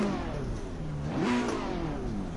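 Race car engine revving in Assetto Corsa Competizione on PS4 at Suzuka, one short rising rev that climbs in pitch and falls back, loud and close with no voices.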